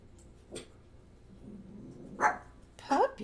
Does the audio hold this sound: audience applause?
no